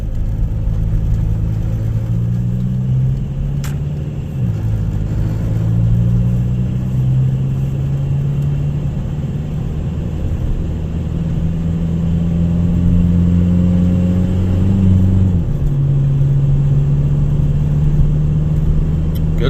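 A 2006 VW Jetta with a six-speed DSG gearbox driving on blacktop, its engine humming steadily from inside the cabin with rising and falling pitch as it accelerates and shifts, loud and continuous.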